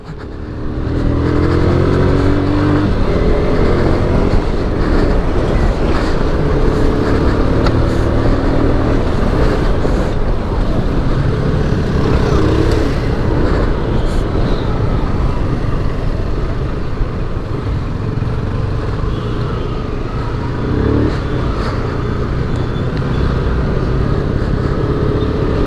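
A Yamaha R15 fitted with an aftermarket silencer, ridden in race mode, roars loudly and continuously with a steady engine drone and wind rush throughout. No one speaks.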